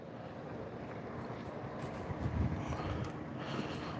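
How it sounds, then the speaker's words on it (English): Strong wind buffets a microphone outdoors while fishing in cold water at Hiway Springs, a continuous rough rumble with gusts swelling midway, heard alone without speech. "Super windy out, actually."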